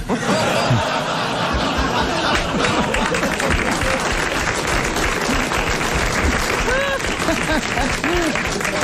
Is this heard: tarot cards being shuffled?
no